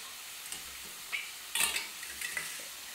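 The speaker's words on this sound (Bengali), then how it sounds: "এই আলু বেগুন পেঁয়াজ দিয়ে ডালের সাথে ভাজা খেতে" Potato, eggplant and onion stir-fry in a pan with a soft continuous sizzle, broken by a few spatula scrapes and taps at close range, fairly quiet overall.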